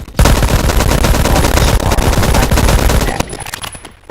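Sten submachine gun firing in the video game Phantom Forces: a sustained, loud full-auto burst of rapid shots for about three seconds, then stopping with faint trailing echoes.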